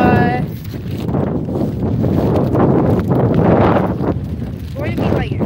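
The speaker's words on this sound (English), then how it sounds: "Oh my god, it's really windy today." Strong wind buffets the microphone in heavy rumbling gusts throughout, with a person speaking briefly near the end.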